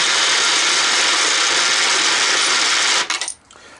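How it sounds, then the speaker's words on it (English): Loud, continuous mechanical rattling and whirring of a coin hopper, in need of service, on an American Changer machine churning out coins, then abruptly stopping with a few clinks before near silence. "So I warned you, this hopper is loud."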